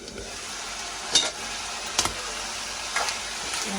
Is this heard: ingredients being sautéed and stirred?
yes